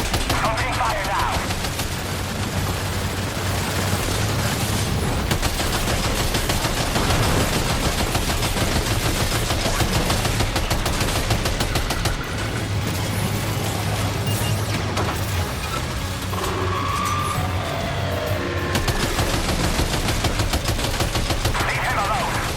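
Rapid gunfire in the video game Death Stranding 2, dense bursts of automatic shots rattling almost nonstop, loud and close, with a few heavier booms mixed in.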